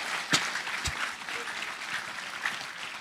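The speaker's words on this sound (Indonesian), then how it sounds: "tepuk tangannya kurang kuat" A motivational talk audience at the Mindful Festival claps steadily for about three seconds, a moderate, fairly thin patter of many hands with a couple of sharper claps near the start.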